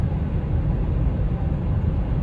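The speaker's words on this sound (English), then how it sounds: "just road noise." A continuous low broadband rumble of tires and road inside a cruising 2004 Camry, steady and even with no voices.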